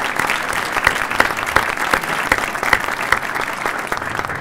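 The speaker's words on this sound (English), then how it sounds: "One more round of applause for our mayor." Sustained applause from an audience at a Buffalo State student union reopening ceremony honoring the city's mayor, steady dense clapping with no talk over it.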